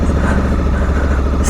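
A motorcycle engine runs loud and close with a steady, throbbing mid-pitched drone during a wheelie and stoppie on grass; no voices.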